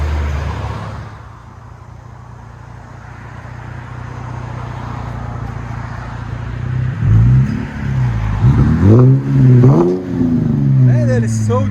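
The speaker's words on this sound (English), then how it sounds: "Rear muffler delete, 4-inch tips." Idling 2012 Cadillac CTS 3.6L V6 with muffler delete and 4-inch tips, deep rumbling exhaust, then several sharp revs rising and falling near the end, loud and close.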